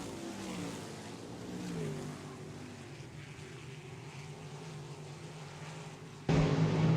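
Late model street stock race cars lap Wagner Speedway, heard as a distant, continuous engine drone that swells and fades slightly, then turns abruptly louder near the end.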